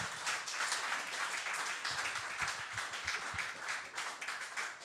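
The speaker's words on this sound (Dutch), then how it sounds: "Mag ik een applaus voor onze gasten?" Applause from an audience thanking the guests at a tech meetup in a venue, steady dense clapping throughout, fairly close and lively without talk.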